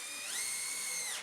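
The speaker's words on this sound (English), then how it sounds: "drill pilot holes and stick some screws in to secure it" A power drill whines steadily through one continuous burst, pitch rising slightly as it spins up, while driving screws into wood to secure a bed frame inside a shepherd's hut; near and loud, no talking.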